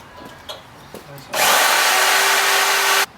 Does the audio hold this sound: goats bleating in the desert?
no